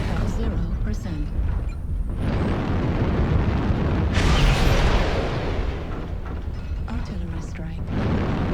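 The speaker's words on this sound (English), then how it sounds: "Artillery strike." Artillery strike explosions in the MechWarrior Online video game rumble in long, heavy booming waves, loud and close, with a game voice announcing over them.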